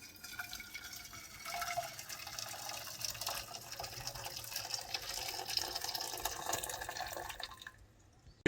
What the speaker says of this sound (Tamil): இது கொதிக்கிறத ஊற்றணும்.